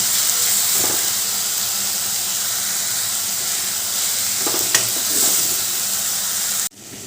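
Ground turmeric and cumin sizzle in hot oil in a pan with a steady, close hiss broken by a few stirring scrapes, ending with a sudden drop near the finish.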